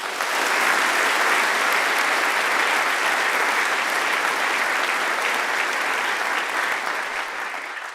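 A panel audience in a studio gives sustained loud applause with dense, even clapping for about eight seconds before it slowly begins to taper.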